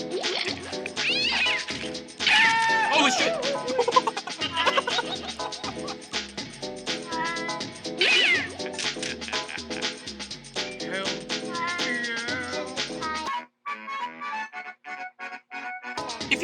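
A cat in the Postal 2 video game yowls and caterwauls repeatedly as it's used as a shotgun silencer, with loud strained meows over game noise, a man exclaiming and laughter, then a sudden drop to quieter sounds near the end.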